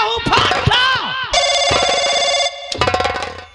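An inspector's telephone rings in sustained electronic bursts with a brief gap between them. Agitated voices talk loudly over the start of the ringing.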